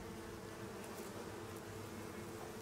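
Bees buzzing in the Icarus survival game: a steady, continuous droning hum that holds at an even level throughout, with no voices.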